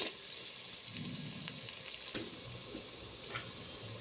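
Frying in a clay pot for a fish curry with okra, before the tomato goes in; a quiet continuous sizzle with occasional stirring scrapes and soft knocks.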